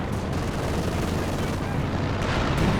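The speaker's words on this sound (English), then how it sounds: "We've got a Stuka dive bomb coming in on one of these B4s" Stuka dive bomb strike in the World War II strategy game Company of Heroes 2, landing on a B4 howitzer in a 3v3 match: a dense, continuous rumble of explosions and gunfire, loud throughout with a heavier burst near the end.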